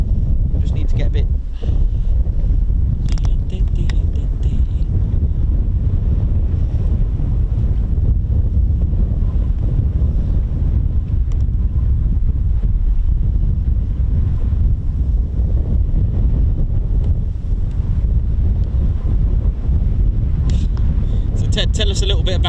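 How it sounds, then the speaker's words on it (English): Strong wind buffets the microphone nonstop at an air weapons range, a loud low rumble with gusty roar throughout. "It's a little bit windy."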